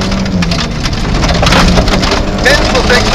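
Steady rain heard inside a rally car on a gravel stage, a dense continuous patter at loud level with engine rumble beneath and a co-driver's voice calling notes over it.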